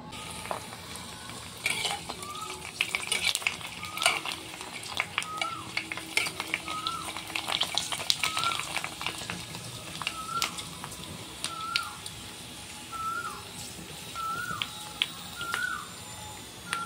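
Puchka puffing in hot frying oil give a soft, continuous sizzle with repeated small chirping pops and bubbles, quiet and close, with occasional light clinks.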